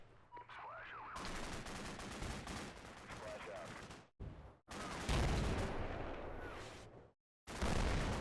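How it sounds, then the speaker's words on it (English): Dense gunfire in the war game Combat Mission: Black Sea, a Stryker brigade fighting Russian troops, with sustained bursts of rifle and machine-gun fire broken by short gaps, loud and close, with brief speech near the start. "I think they're shooting at this team here"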